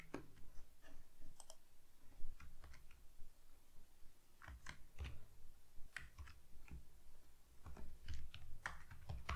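Typing on a computer keyboard during an interview session, with irregular bursts of close, light key clicks and short pauses between them.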